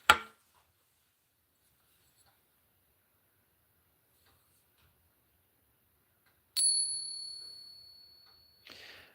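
Metallic pings from silver coins: a soft tap at the start, then one bright, high ringing tone that slowly fades, followed by another brief strike.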